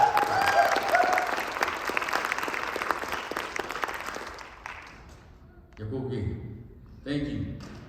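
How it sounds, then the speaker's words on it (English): Audience at a Choctaw social dance event applauding a world champion stickball coach, a dense steady wash of clapping that fades after about four seconds, followed by a few bursts of talk. "Give a round of applause."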